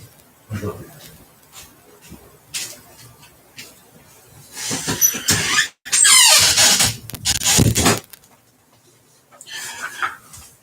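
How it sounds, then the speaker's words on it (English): A screen door squeaks as a dog pushes it open, giving high, scraping squeals in bursts through the middle, with a person talking before and after and rain-like hiss behind. "Dog opened the screen door."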